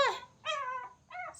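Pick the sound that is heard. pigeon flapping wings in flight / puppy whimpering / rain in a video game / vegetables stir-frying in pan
puppy whimpering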